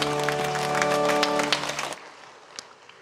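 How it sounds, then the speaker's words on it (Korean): A church congregation applauds during a Sunday worship service in a brief, loud burst of many hands clapping together that breaks off abruptly, leaving a few faint scattered taps. "영광의 박수 올리겠습니다."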